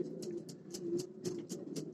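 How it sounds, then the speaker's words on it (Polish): Soft, throaty homing pigeon coos repeat in a steady pattern over a constant low hum, fairly close and moderately loud. "ładna para będzie gołębi"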